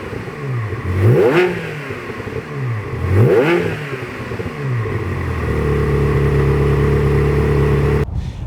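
A Ferrari 360 engine revs hard twice with sharp climbing-and-falling sweeps, loud and close, then holds a steady high idle-like drone for several seconds before cutting off abruptly.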